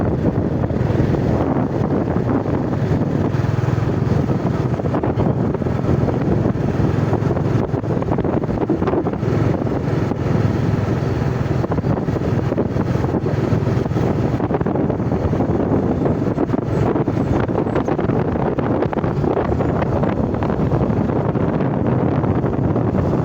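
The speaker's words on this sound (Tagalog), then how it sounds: "Medyo lumalamig na po yung hangin, asimoy na hangin tol." Strong wind blows outdoors on the way to a mountain, roaring continuously and buffeting the microphone at a steady loud level for the whole stretch, with no voices.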